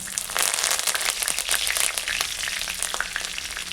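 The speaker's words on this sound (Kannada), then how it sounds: "ಈಗ ಕರಿಬೇವು ಹಾಕಂಬ." Curry leaves hit hot oil in a tempering pan already crackling with mustard seeds, bursting into a loud, dense, continuous sizzle with scattered sharp pops throughout, close and without any talk.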